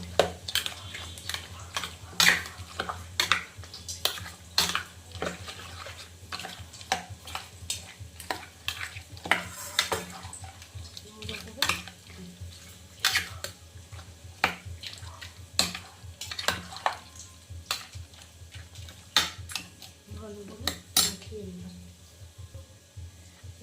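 Prawn heads being mixed by hand in a bowl with mustard oil, turmeric and salt, giving soft wet squelching and irregular clicks of bowl contact, with someone talking over it.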